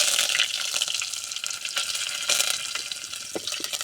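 Dried red chillies and curry leaves frying in hot oil, giving a loud, bright, continuous sizzle with sharp spits and crackles throughout, heard close with no talking.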